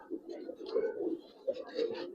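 Giribaz racer pigeons with silver coloring coo in low, rolling, overlapping murmurs, close and moderately quiet, with a scattering of brief rustles.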